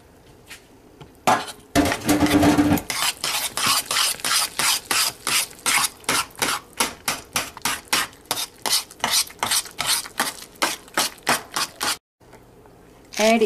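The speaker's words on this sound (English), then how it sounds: "grate this paneer" Paneer being grated by hand for a dry-fruit sandesh, a rapid run of rhythmic scraping strokes against the grater, close and loud, with brief clinks of metal utensils at the start and end.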